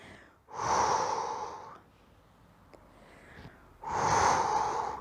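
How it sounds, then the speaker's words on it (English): Two slow, deep breaths drawn in through the nose and released during a fit-ball exercise class, each a long, close, airy rush separated by a quiet pause. "Take a deep breath in through the nose. When you breathe out, you're going to lift your chest."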